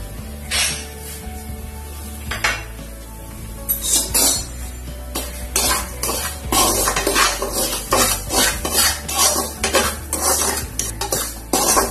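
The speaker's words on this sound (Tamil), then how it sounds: "அதனால நீங்க ரவையில நெய் போட்டு நல்லா வறுத்துருங்க" Semolina roasting in ghee in a pan for rava kesari, with a spoon scraping and clinking against the metal pan in repeated bursts of stirring, close and fairly loud, with no talk.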